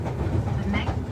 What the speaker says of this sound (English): taking the Kintetsu train from Nara, where Nakama lives, over to central Osaka.